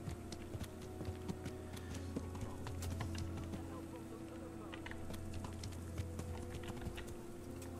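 Horse hooves clip-clop at a steady pace in the video game Kingdom Come Deliverance, a repeated rhythmic clatter that stays fairly faint over a low game ambience with a hint of speech.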